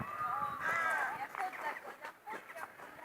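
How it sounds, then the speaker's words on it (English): Hens and chickens at Fota Wildlife Park cluck and squawk nearby in uneven bursts, with one drawn-out call, mixed with outdoor background noise and some voices. "And now we have the hens and the chickens."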